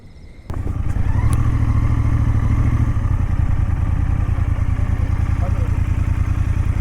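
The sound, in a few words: motorcycle riding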